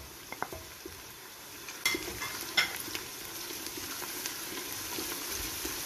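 Ginger and garlic frying with onions in a pan for a lauki chana daal, a soft steady sizzle with a few stirring scrapes and light clinks, fairly quiet and close.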